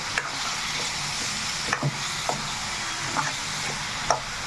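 Chicken pieces coated in masala sizzle steadily in a hot pan while a spoon stirs them, adding occasional soft scrapes and clacks over the constant frying hiss, with no talking.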